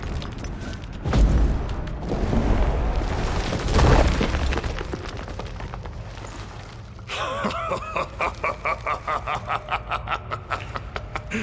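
Stalagmites smashed in The Witcher 3, two heavy booming crashes with rumbling debris, followed by a rhythmic pulsing magical drone.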